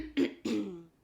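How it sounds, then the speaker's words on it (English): Two short, rough throat-clearing bursts, close and fairly quiet, the second slightly longer and trailing off. "suddenly you get a frog in your throat"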